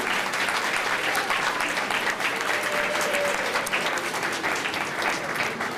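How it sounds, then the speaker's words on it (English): Steady, dense applause from a pageant audience at a Valentine's Day pageant, a loud, continuous wash of many hands clapping with no pauses, filling the hall throughout. "we'd also like to give a special round of applause"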